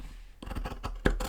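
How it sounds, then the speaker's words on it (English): Scissors snip through fabric along traced pattern lines while making a reversible summer tulip hat; a few short, close crisp cuts with a sharper snip near the end, no talking. "I always trace my pattern to the fabric and cut out those lines."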